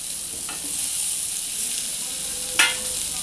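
Chopped tomato added to frying onions in a pan for a jackfruit curry, with a soft steady sizzle and a brief clink as it goes in, then quiet frying.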